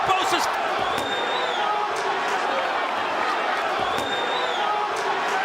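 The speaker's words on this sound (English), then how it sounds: "The crowd buzzing" An arena crowd at the Teofimo Lopez vs George Kambosos Jr boxing fight keeps up a steady, restless buzz of murmuring voices, with a few sharper shouts and thuds rising out of the hum as commentators talk over it.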